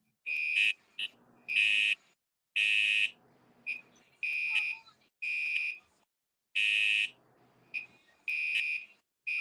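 A fire alarm going off in repeated loud electronic beeping bursts in an irregular on-off pattern, close and shrill, with brief quiet gaps between and no talking.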